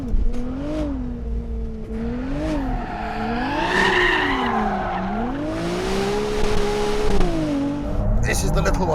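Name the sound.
Ferrari 296 GTS sliding with tyre squeal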